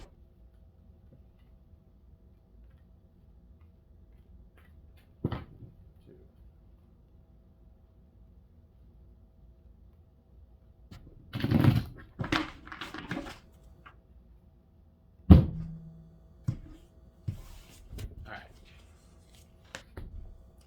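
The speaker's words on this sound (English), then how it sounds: "2 more shuffles." Tarot cards being shuffled: a few sharp riffles and bursts of card flutter, close and fairly loud, separated by quiet stretches with small taps and handling noises.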